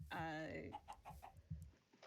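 Chickens in the Minecraft video game cluck in a short burst of calls, with a fluttering rhythm that settles into a few low clucks, heard close under people talking.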